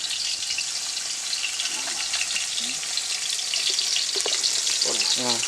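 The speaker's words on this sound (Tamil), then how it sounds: "சின்ன வெங்காயம் போடுறான். நல்லா வதக்கணும்." Shallots sautéing in hot oil for a village-style duck curry give a steady, bright sizzle, with a few spoon scrapes and stirring clicks near the end.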